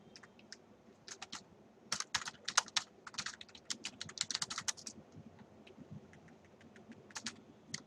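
Fingers type C program code on a computer keyboard in quick, uneven bursts of close, crisp key clicks, with short pauses between runs of keystrokes.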